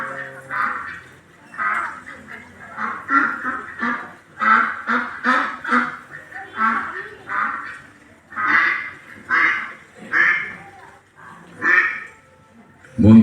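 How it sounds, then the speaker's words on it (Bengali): Ducks on a village pond give a series of loud, nasal quacks in irregular bursts, close by and repeated throughout. "গ্রামের পুকুরে কি সুন্দর হাঁসগুলো ভেসে বেড়াচ্ছে।"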